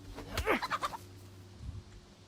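Close clucking bursts from a chicken in the DayZ survival game, a quick run of short calls followed by a lower muffled note, over quiet background.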